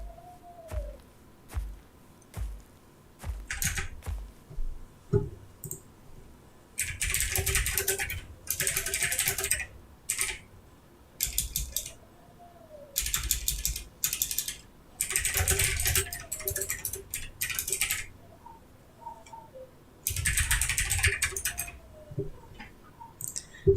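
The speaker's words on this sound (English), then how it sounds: "Sorry, did you hear me typing?" Bursts of rapid typing on a computer keyboard, loud and close in clusters of several seconds with short pauses between them, during a livestream of the dinosaur game Path of Titans.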